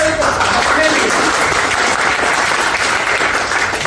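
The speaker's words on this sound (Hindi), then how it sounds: "तो मैं पुनः चाहूंगा एक बार तालियां" Loud, dense applause from a large audience at a public gathering in Lucknow, steady sustained clapping throughout with no pauses.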